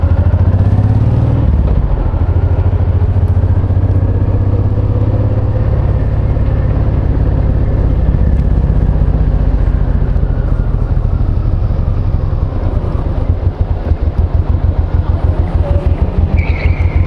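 A Honda VTX1800 motorcycle on the road with a loud, steady engine drone and rushing wind throughout, its rumble turning into a rhythmic, pulsing throb near the end.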